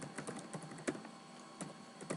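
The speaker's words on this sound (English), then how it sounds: "You would type that" Sparse, soft keystrokes tap on a computer keyboard, a handful of separate clicks at uneven intervals, quiet and close with no talking.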